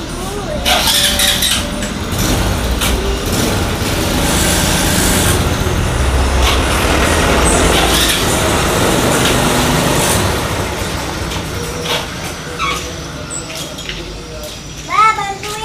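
A Yamaha Jupiter Z1 motorcycle with a double clutch lining, which jerks and struggles on hills, revs loudly in sustained surges that ease off near the end, with people talking over it.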